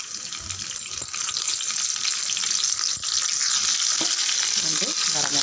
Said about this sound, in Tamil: கடுகு உளுத்தம்பருப்பு சேர்த்துருக்கோம் ஃப்ரெண்ட்ஸ். பொரியட்டும்.